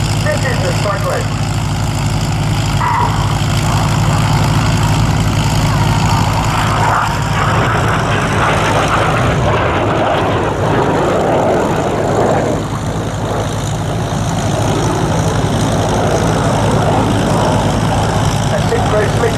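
Red Arrows display jets turning away at 6G at the Cosford Airshow, a broad continuous roar of distant jet engines filling the air, steady and loud with slight swells as they pull round.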